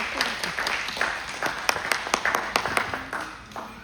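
A church congregation applauds, many hands clapping in a loose, fairly quick rhythm that fades toward the end, with a voice faintly underneath.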